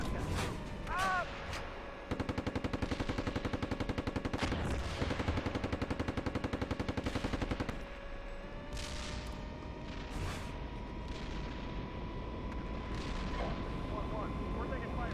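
Gunfire in Steel Beasts Pro PE, a tank simulation: a long steady machine-gun burst rattles for several seconds amid booming shots and rumble, with speech over the battle noise.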